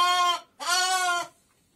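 A two-year-old ewe bleats right after lambing, two loud, close calls in quick succession with a brief gap between them.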